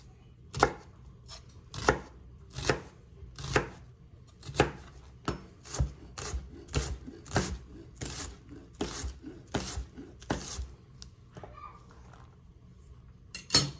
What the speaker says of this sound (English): This one's a little thicker, so I'm gonna cut it twice this way and then repeat the same process.